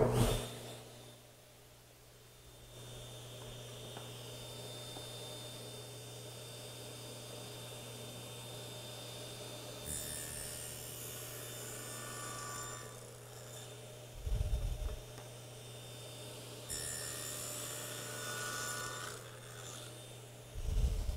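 A hand saw cuts a 5/16 inch wooden tenon in a woodworking shop, making quiet, soft rasping strokes under a low steady hum, with a few louder bursts near the end.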